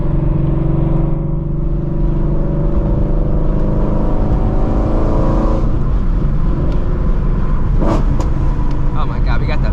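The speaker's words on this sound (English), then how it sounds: "Oh my God, we got the backfires." Shelby GT350 Mustang with full bolt-ons on E85 fuel, exhaust loud and close with engine drone and sharp crackling backfire pops toward the end, a voice speaking over it.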